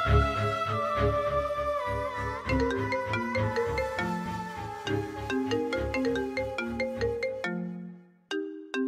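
A phone ringtone plays a bright, repeating electronic melody of quick chiming notes, loud and alone for several seconds before abruptly stopping and briefly resuming.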